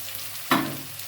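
Onion and tomato sautéing in a pan for sundakkai thokku, a soft hiss that jumps up suddenly when stirred, then tapers into a steady low sizzle.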